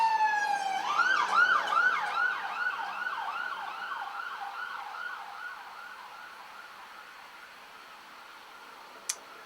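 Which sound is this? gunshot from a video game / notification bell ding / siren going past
siren going past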